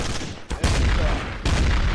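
Heavy bursts of rapid gunfire in the multiplayer game TTT, dense and loud at close range, with a brief break near the start and another short dip before the firing resumes.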